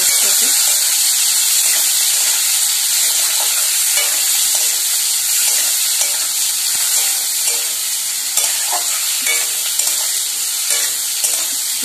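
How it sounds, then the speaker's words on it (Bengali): Chopped onions and tomatoes sizzle steadily in hot oil in a pan, a loud continuous frying hiss with faint stirring scrapes, no voices over it. "এগুলোকে ভালো করে ভেজে নেব পেঁয়াজটাকে"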